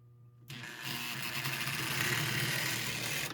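A Lionel Scout model train motor whirs on a test track powered by a transformer, kicking in abruptly and running as a soft, steady, hissing hum for about three seconds.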